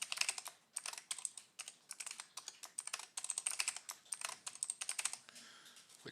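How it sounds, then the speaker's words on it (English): A password is tapped out on a computer keyboard during a Windows Server install, with quick, close, crisp keystrokes in uneven bursts and short pauses, alone and fairly quiet. "We're going to type in our password."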